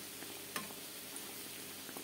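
Dough pieces frying in plenty of hot oil while being turned over: a quiet, constant sizzle with a soft clink of a utensil and a few small pops close by.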